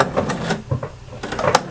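A sewing machine stitches across ribbon, backstitching first and then running straight over, its motor giving a close, steady mechanical whir with a few short pulses.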